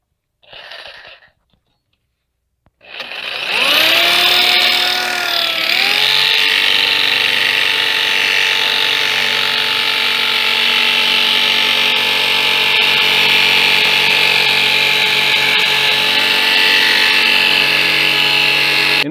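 A power tool spins up to cut and sand the steel of an ammo can, rising in pitch after a brief silence and then holding a loud, continuous high whine with grinding noise up close.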